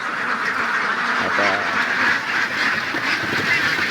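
Ducks quacking steadily at a duck farm, a noisy outdoor setting, with a constant wash of water flowing from a drum into their pool and some voices underneath.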